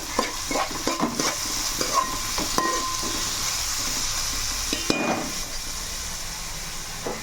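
Onions with a little rock salt cooking in a pan at home while a chicken and mushroom dish is made: steady frying sizzle with repeated scraping stir strokes, close and fairly loud, no talk.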